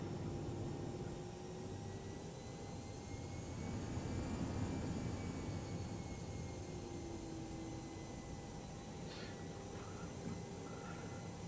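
Toliss A319 airliner taxiing in X-Plane 11, a steady broadband jet engine whine and rumble holding at an even level throughout, with no talk.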